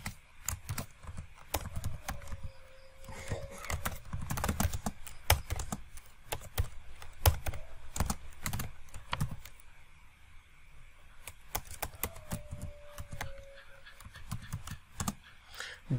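Computer keyboard typed on in uneven bursts of sharp close clicks and key taps while entering a SQL delete query, with short pauses between runs and a faint low voice murmuring underneath.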